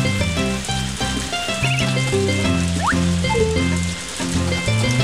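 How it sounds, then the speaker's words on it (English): Steady rain falling in the farming video game Harvest Moon: A Wonderful Life, a continuous soft hiss running beneath the game's looping background music, with no voices. "I'll just go and make it stop raining."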